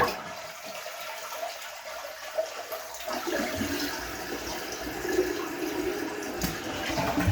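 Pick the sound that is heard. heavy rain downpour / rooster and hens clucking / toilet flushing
toilet flushing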